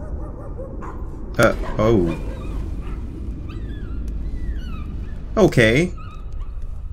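A dog in the video game Layers of Fear gives a sharp bark around 1.4 s and a whimpering, whining cry near 5.5 s over a steady low game ambience, with a person briefly speaking.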